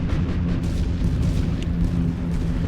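Artillery barrage in The Great War: Western Front, a continuous low rumbling roar of distant shell impacts and booms blending into one heavy, steady wall of sound.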